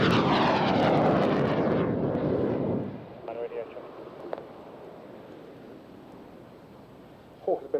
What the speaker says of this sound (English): Hawk has been a very successful aeroplane